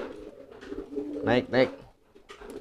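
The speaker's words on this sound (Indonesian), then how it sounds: "ini merpati kipas yang udah lama nggak dijodohkan nih" A fantail pigeon gives two drawn-out, throaty coos close by, faint background noise around them, while someone speaks a few words before and after.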